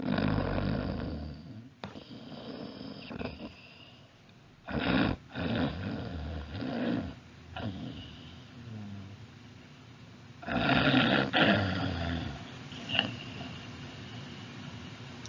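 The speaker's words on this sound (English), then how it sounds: "You hear someone snoring." A person snoring, heard as a few loud, rough breathing bursts spaced several seconds apart against a quiet background.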